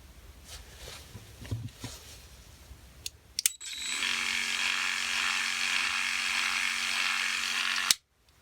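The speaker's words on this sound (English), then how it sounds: "listen to the difference between the toothbrush I was using and the Harmony Plus clippers" Harmony Plus horse clippers switched on after a few small clicks, running as a steady, close electric buzz for about four seconds before stopping sharply.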